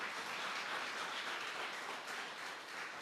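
Church congregation applauding in place during a service, a soft, even wash of many hands clapping, faint and distant, steady for the whole stretch with no talk.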